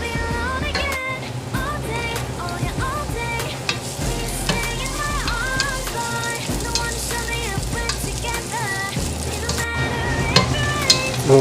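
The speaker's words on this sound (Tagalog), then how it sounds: "let's add the onion" Chopped onion sizzles loudly in hot oil in a frying pan, with crackling bursts and stirring scrapes over a continuous frying hiss.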